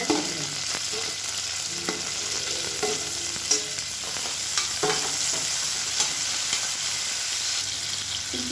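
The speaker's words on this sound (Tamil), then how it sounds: "இப்போ வெங்காயம் லேசாக வதங்கிட்டு இருக்கு" Sliced onion sautés with mint in a pan, a steady close sizzle broken by regular scraping stirs and light clinks of the spoon.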